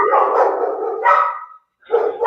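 Dogs bark in several loud, close bursts that run together, break off briefly into silence, then start up again, with no talking over them.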